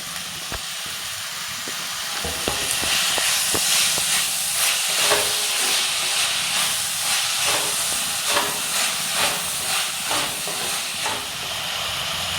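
Tomatoes fry and get stirred in a pan for a Kerala-style crab roast, giving a steady loud hiss and sizzle with scraping stirs scattered through, close by and with no talk.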